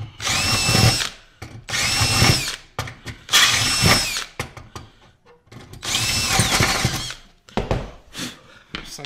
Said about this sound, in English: Apparently I didn't drill these out.